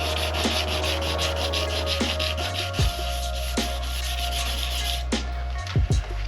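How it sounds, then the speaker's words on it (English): A car bonnet is sanded before painting, a loud, continuous, close abrasive rubbing that keeps an even rhythm, with a few soft knocks and a brief shift in tone near the end. "So keep sanding, and we'll pick up the painting side of it, masking up tomorrow."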